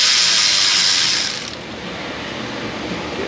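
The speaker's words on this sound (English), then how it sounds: "let's get down and start getting some of these bolts out of the perimeter of this unit" A ratchet backs out 10 mm bolts around an engine cover on an Infiniti FX35 3.5 VVT, making a continuous close, rapid clicking whir. It grows slightly quieter partway through, and there is no talking.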